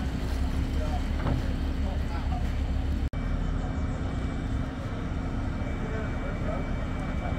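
A sailboat called Bernie Jean heads out on its first spin, with a steady wash of water and strong wind buffeting the microphone throughout, plus a brief dropout near the middle.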